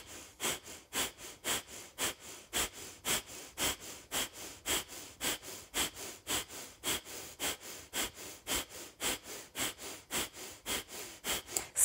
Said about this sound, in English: two more rounds of this Kapalabhati, wonderfully clearing, cleansing breath